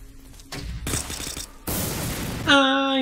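Gunfire in the video game 50 Cent: Bulletproof, a few loud bursts of rapid shots separated by short gaps, followed by a ringing electronic tone at the end.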